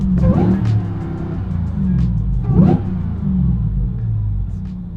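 A Demon-powered Hemi Jeep Gladiator rumbles loudly from inside the cab, its V8 swelling in two short throttle blips over a deep, steady idle-like drone.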